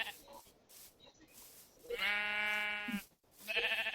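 A video-game sheep bleats, one long, loud, wavering cry in the middle followed by a shorter bleat at the end, with quieter game noises before.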